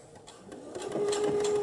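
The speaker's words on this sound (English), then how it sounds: "My machine's locking in my stitches." A sewing machine stitches a knit neckband on a V-neck, running in a short steady burst that grows louder and holds a whining tone toward the end, close and alone with no talk.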